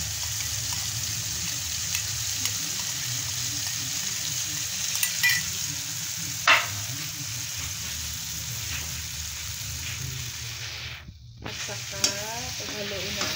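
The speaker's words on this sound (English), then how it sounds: "Paghaluin natin ng maigi." Creamy garlic pasta is stirred in a pan, with a steady low sizzle and scraping of the spoon running throughout, a few brief clinks near the middle, and a short splash or pour toward the end.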